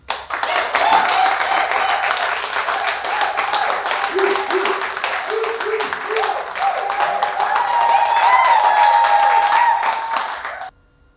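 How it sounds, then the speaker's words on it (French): A hall full of people at an elective general assembly applauds the president in steady, dense clapping that lasts about ten seconds and then stops abruptly, with some voices calling out underneath. "Je voudrais que vous donniez une salve d'applaudissements au président et Kodonoa Henri Philippe."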